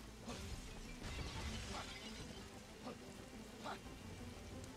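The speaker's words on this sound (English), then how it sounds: "Oh, wait, we can make it rain here." Steady rain pours in a fantasy action video game, Stranger of Paradise, a continuous hiss of falling water with a few louder splashing drops, moderately loud and unbroken.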